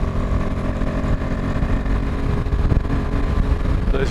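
Royal Enfield Himalayan 450 motorcycle rolling on the throttle in sixth gear up to 70, a loud, steady engine drone with heavy wind rush, continuous and close throughout.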